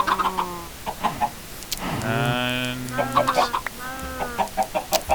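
Cartoonish chickens cluck and chirp in a farm-breeding video game, a string of short bursts with one longer squawk in the middle, fairly close and clear with a brief voice between them.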